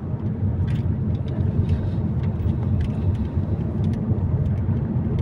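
A steady, loud rumble of road traffic on a city street at night, with engines and tires droning continuously nearby and no clear breaks.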